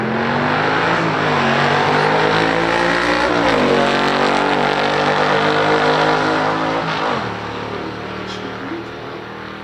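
Stock drag race between a 1970 Dodge Challenger T/A Hemi and a 1965 big-block Corvette: loud, continuous engine roar with shifting pitch as the cars run, tapering slightly near the end.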